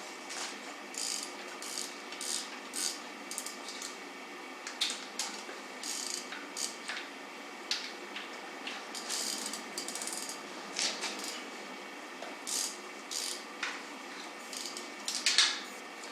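A ratchet wrench loosens engine intake manifold bolts, repeated quick clicking bursts in uneven runs with short pauses, close and fairly quiet.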